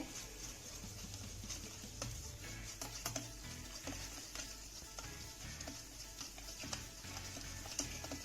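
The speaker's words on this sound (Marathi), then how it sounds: "हे दही आपल्याला साखर विरघळेपर्यंत छान असं फेटून घ्यायचंय" Curd beaten with sugar and water in a bowl, faint quick clicks and soft taps of whisking in a fairly steady rhythm, quiet and close with no speech.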